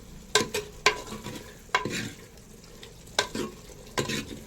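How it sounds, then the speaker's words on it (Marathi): A spatula stirs chicken frying on a hot tawa: close, irregular scraping strokes with short sizzling bursts, about six distinct strokes over a steady low fry, with no voices. "आता त्याला मस्तपैकी हलवून घ्यायचं आहे"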